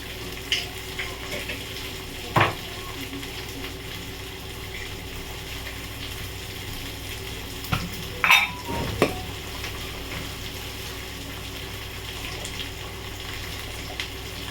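Potatoes with ground spices fry in a pan, giving a steady low sizzle with a few sharp scrapes and clinks of a spoon stirring against the metal.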